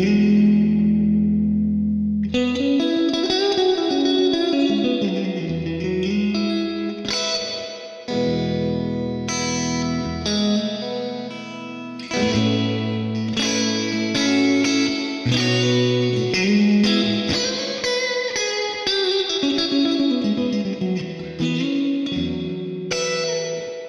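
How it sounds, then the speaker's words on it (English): Electric guitar through a Hughes & Kettner Black Spirit 200 amp with reverb turned to maximum, loud sustained chords and notes ringing into a long, full wash of reverb tail between phrases. "So the maximum amount of reverb you can get is this."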